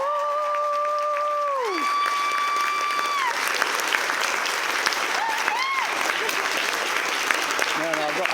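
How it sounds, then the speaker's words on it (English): Wedding guests give a loud round of applause and cheering for the bride, sustained dense clapping with whoops and shouts rising over it, and voices calling out through the crowd. "Can we first please have a massive round of applause and a big cheer"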